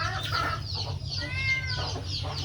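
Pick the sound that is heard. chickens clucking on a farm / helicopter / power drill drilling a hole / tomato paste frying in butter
chickens clucking on a farm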